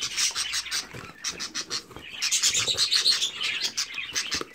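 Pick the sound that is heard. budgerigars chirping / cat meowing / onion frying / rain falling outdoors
budgerigars chirping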